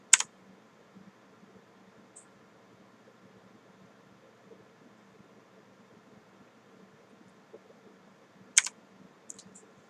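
Two sharp, isolated key presses on a computer keyboard, one at the start and one near the end, sound close against a faint, steady fan hum in a quiet room.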